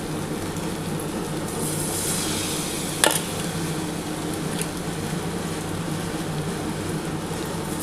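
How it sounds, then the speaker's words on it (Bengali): Cornflour-coated paneer pieces fry in hot oil over low heat, a steady, even sizzle that continues throughout, with one brief sharp clink partway through. "এবার কিন্তু আমি একটা একটা করে ভেজে নিচ্ছি।"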